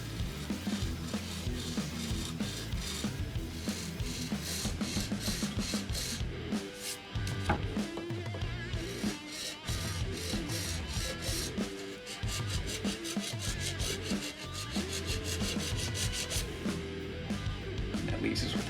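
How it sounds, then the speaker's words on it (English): Triangular file rasping grooves into a wooden Halo Reach turret prop, a steady run of quick back-and-forth strokes close up, with a few short pauses between passes. "So now I'm going to take the tri-square or triangular file, and we're just going to cut a few details into that."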